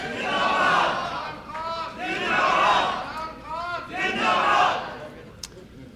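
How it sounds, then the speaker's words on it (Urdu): A crowd at a PTI Dallas chapter gathering in 2010 welcomes Imran Khan with loud cheering and chanting that rises and falls in three strong swells. "آپ لوگوں کی بھرپور تالیوں کے گونج میں چیئرمین پاکستان تحریک انصاف جناب عمران خان"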